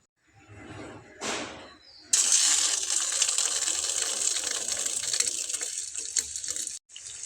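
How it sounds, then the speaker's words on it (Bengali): Egg-coated potato and bread snack deep frying in oil: a dense, loud, hissing sizzle that bursts in suddenly and holds steady for several seconds before cutting off, close up with no speech. "তো দেখুন আমি এখানে একটু গোল্ডেন ব্রাউন করে ভেজে নিচ্ছি"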